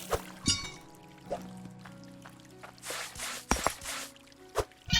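Objects tossed into a river in the mining video game Hydroneer, giving several short separate watery splashes and plops at irregular intervals over a low steady ambient hum.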